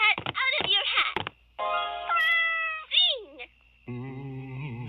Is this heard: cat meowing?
yes